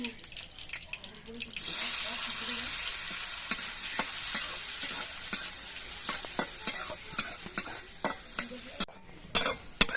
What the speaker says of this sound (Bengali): ঘিয়ের মধ্যে দিয়ে আমি কিছু কাজু বাদাম আর কিশমিশ ভেজে নিয়েছি